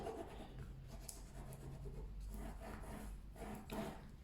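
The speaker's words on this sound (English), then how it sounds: "now from that gusset I'm going to burnish it outwards" A burnishing tool rubs cardstock outwards from a folio gusset in quiet, short scraping strokes, soft and close with slight pauses between passes.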